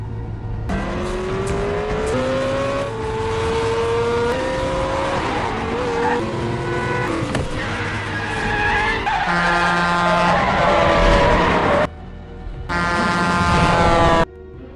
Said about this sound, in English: Killer continues tracking Gordon, leading to a high-speed chase through city traffic.